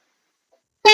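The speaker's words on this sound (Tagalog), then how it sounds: "Testing natin sa busina." A newly fitted horn on a Motorstar ER150N motorcycle starts abruptly after near silence, a single loud, bright, steady tone that rings out to the end.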